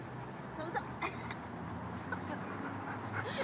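A dog whimpers and yips faintly during backyard play near a small swing, the soft cries scattered over a steady background while people laugh and talk nearby.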